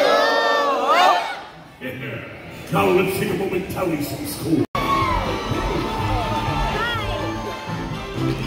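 Audience at the Pirates Voyage dinner show in Pigeon Forge cheering and shouting, with children's voices in the crowd noise, rising and falling under an announcer speaking over it throughout.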